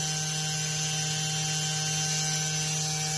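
A steady pneumatic sander runs at 90 psi, 3.4 CFM, whirring continuously with a constant hum and high hiss, moderately loud and close, no voices.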